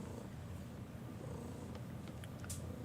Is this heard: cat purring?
yes